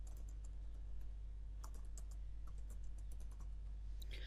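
Close typing on a computer keyboard in a word processor, a quiet, steady patter of key clicks over a low constant hum, with a few louder taps near the end.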